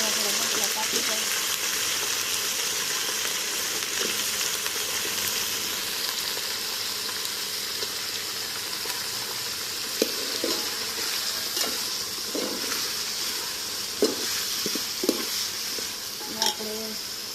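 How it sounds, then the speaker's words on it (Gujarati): Potatoes sizzle and fry in hot oil with a ginger tempering, a steady loud hiss running throughout while a spoon periodically scrapes and clinks against the pan as they are stirred. "તો આપણે બટેટા થોડા તેલમાં ફેરવવાના, એટલે સરસ થોડા બટેટા કાપી જાય"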